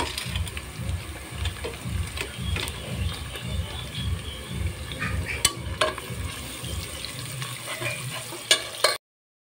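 Chopped garlic and ginger fry in a hot pan, a steady close sizzle with a rhythmic stirring scrape running throughout and a few sharp utensil clinks near the end.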